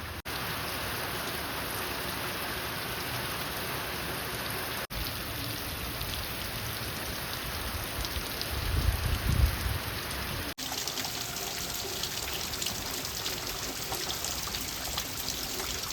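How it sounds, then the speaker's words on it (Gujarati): Steady rain falls during a red-alert downpour in Amreli, a dense, even hiss of drops on surfaces that carries on throughout at moderate loudness, with a brief lower rumble midway and no voices. "વરસાદ હજી પણ ચાલુ છે ટપ ટપ બંધ ન થાય"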